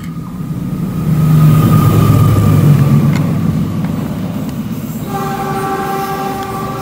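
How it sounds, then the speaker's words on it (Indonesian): A train rumbles past loud and close on a nearby railway, its heavy rolling roar peaking midway before a sustained multi-tone horn sounds near the end, with no talking. "Ini berisik ya karena dekat dengan rel kereta dan jalan raya."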